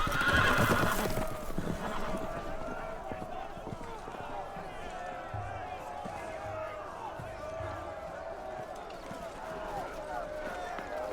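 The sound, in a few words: horses neighing and running, from a video game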